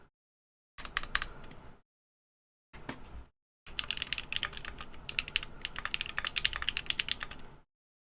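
Typing on a Neo Ergo computer keyboard comes in three bursts: a short run of keystrokes, a brief flurry, then a longer steady stretch of rapid clicking, all close and fairly quiet with silence between the bursts.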